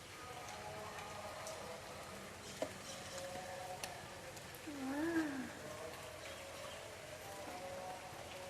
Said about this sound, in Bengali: আর বাড়িতে দেখো এখনো বৃষ্টি হয়ে যাচ্ছে